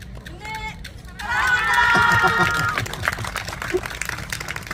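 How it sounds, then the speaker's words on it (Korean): Applause from an outdoor audience at a summer busking festival in Gangdong, a burst of clapping that swells in after a moment, holds loud, then fades into scattered claps and crowd chatter. "박수 좀 보내주십시오"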